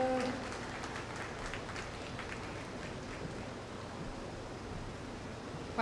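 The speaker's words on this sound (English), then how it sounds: "Let's give them a nice round of applause" Crowd applause at a county fair junior breeding show for feeder calves, a dense, even patter of many hands clapping at a moderate distance, starting strong and holding steady before fading slightly.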